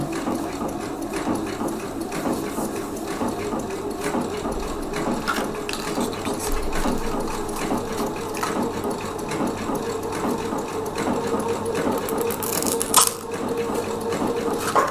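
A sewing machine runs a triple stitch for a decorative topstitch during a live sewing lesson: a steady, close, fast mechanical whirr with rapid needle clatter that continues unbroken, with no talking.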